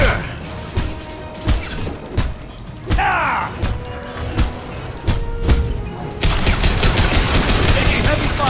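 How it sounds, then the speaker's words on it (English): Heavy weapons fire in the sci-fi shooter Mass Effect: sharp irregular shots and thuds crack through the first six seconds, then a sustained loud roar of combined gunfire takes over, with game voices occasionally heard. "Taking heavy fire."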